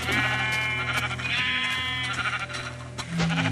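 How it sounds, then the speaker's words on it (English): A Minecraft sheep bleats loudly in the Xbox 360 game, a drawn-out wavering baa that fills most of the three and a half seconds, with a second bleat near the end. "Come back here, sheep, I need your wool."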